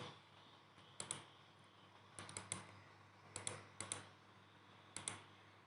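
Short bursts of keystrokes on a computer keyboard while entering network configuration commands, a few quick clicks then pauses, repeating in separate clusters, close and fairly quiet with no talking.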